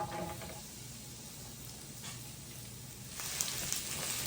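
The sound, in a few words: sizzle of onions and peppers frying on griddle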